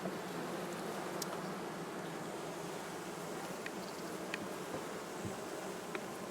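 Honey bees at a hive during queen introduction give off a steady, dense buzzing drone throughout, with a few brief sharper wingbeat passes close by and no talking.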